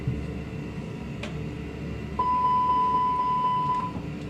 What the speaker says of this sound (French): c'est l'alarme de feu moteur ou de feu de l'APU.